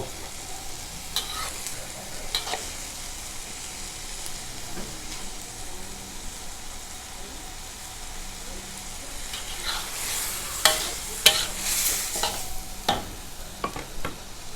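Squid with eggs and holy basil stir-frying in a hot pan, with a steady sizzle, intermittent scraping from the spatula and louder bursts of hiss near the end.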